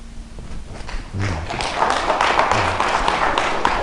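Clapping from an audience of tax office staff at a lecture hall talk, starting faintly and then swelling into a steady patter of many hands, with a few dull thumps underneath.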